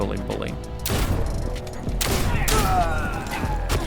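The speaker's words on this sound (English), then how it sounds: "this is very much like a video gamey shotgun" Video game shotgun blasts with mechanical pump and reload clatter, several sharp booms spaced out over a few seconds amid other game noise.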